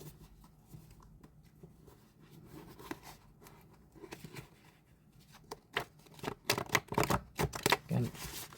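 Tarot cards being shuffled by hand, soft riffling and slapping that grows busier and louder toward the end, with a voice talking faintly underneath.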